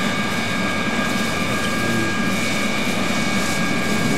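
Steady roar of a Skyhawk jet engine in flight in the Arma 3 video game, a continuous broad whine with tonal hum, loud and unbroken with no speech.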